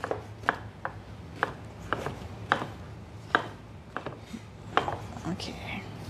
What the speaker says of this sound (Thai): So cut mushroom to like dice